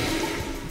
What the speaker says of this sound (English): That was a toilet flush sound.